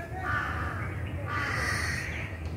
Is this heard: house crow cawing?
yes